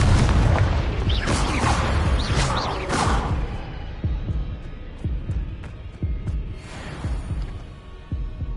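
Booming spell blasts from Hogwarts Legacy, a Confringo explosion among several heavy thuds early on, followed by softer repeated impacts in game combat.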